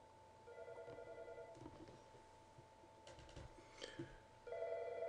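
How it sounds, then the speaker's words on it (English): Desk phone extension ringing on a Mitel system, a faint electronic ring tone sounding in two short bursts at the start and end amid quiet room noise and a few clicks. "My extension is ringing."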